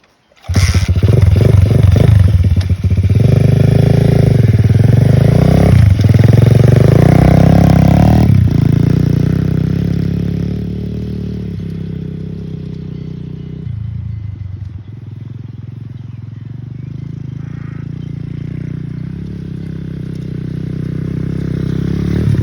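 A small 125cc Xmotos XB33 pit bike engine with a stock exhaust starts, then revs loudly and close, easing to a steady idle-like drone before picking up again.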